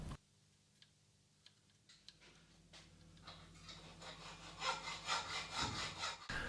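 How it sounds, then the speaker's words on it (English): Hacksaw cutting a slot in metal for a shop-made tailstock DRO mount, a few tentative strokes at first, then a steady rhythmic rasping of back-and-forth strokes that grows louder, close and without talk. "I'll now just use a hacksaw to finish off the slot."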